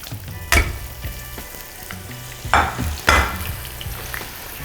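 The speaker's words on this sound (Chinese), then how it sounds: "这个油呢基本上烧到这种4成之后，我们开始炸这个茄子" Eggplant sizzles steadily in hot oil, with a few sharp clanks and bursts of crackling as pieces are stirred in the pan.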